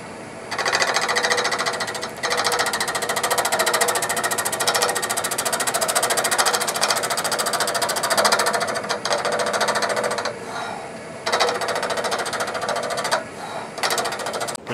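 Skew chisel cutting a four-sided wooden jar spinning on a lathe, a loud, continuous buzzing chatter with brief dips where the tool lifts off the intermittent square corners.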